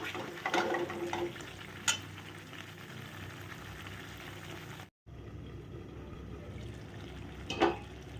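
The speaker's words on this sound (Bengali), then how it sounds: "তলাটা কিন্তু ধরে যেতে পারে সেই জন্যে খুব লো ফ্লেমে আস্তে আস্তে করে কষাবে" Papaya kofta gravy with cashews and raisins stirred slowly in a pan over a very low flame, a soft continuous scraping and gentle simmering bubble with a few louder spoon knocks and a brief dropout midway.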